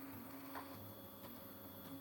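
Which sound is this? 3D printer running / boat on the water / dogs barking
3D printer running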